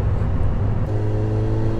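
A loud car exhaust rumbles and revs close up in one short, steady, heavy burst, with no voices over it.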